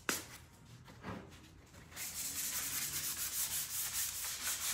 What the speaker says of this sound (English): what I'm doing is sanding this to make it smooth